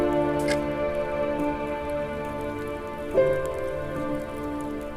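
Ongoing rain patters steadily in the background beneath a sustained tonal musical drone, with a soft thud midway.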